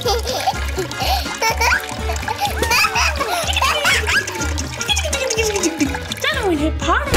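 Water balloons splash and splatter repeatedly while children talk and play loudly over them, with bursts of liquid spilling amid excited voices.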